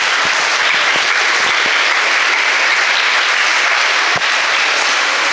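Sustained audience applause fills a science session at Vision International, a dense, steady wash of clapping from a large crowd throughout, with a few sharper individual claps standing out.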